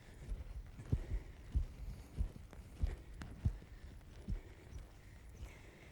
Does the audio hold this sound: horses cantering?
yes